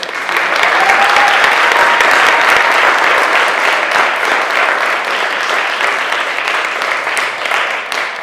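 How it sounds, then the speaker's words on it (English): An audience at a live pitch event applauds after a presentation, loud dense clapping from a large crowd that holds steady from start to finish in a big room, with a faint whistle early on. "Let's have another round of applause."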